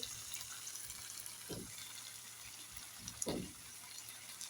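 Tap water runs steadily and fairly quietly during washing in a village kitchen while lau shak with jackfruit seeds is being cooked, with a couple of brief splashes rising above the flow.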